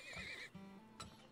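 A horse in the oil-drilling game Turmoil lets out a brief, clear whinny followed by a lower snort and a short trailing neigh, faint overall and with no speech.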